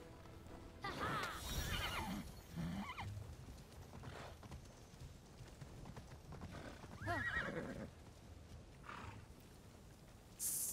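Rhythmic hoofbeats of a galloping horse with several loud neighs and whinnies, clear and close, in the video game Immortals Fenyx Rising.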